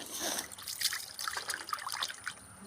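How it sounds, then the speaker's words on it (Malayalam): Fresh sardines being rinsed in water in a home kitchen in Kerala, with a close, steady trickling and splashing of water and small irregular drips throughout. "അപ്പം നമുക്ക് മത്തി വൃത്തി കഴുകാം"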